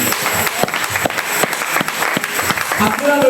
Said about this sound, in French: Acclame bien Dieu, acclame.